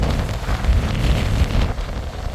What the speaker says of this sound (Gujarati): આ જો કેટલો જોરદાર પવન ફૂંકાય છે અને દરિયાના મોજા પણ હવે ધીમે ધીમે વધી રહ્યા છે